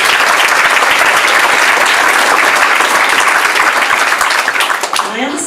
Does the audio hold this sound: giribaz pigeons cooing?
no